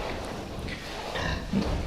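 Pigs on a farm, sows kept for breeding, grunt softly nearby, giving a few low, rough snorts over a dense rumbling background.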